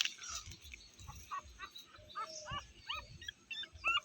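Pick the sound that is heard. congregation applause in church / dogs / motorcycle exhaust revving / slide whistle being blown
dogs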